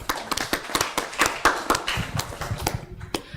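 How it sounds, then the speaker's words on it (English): An audience claps to welcome a speaker at an MSME Day event, producing a brief, uneven patter of claps from a smallish crowd, fairly close and not overly loud. "please welcome him with a round of applause"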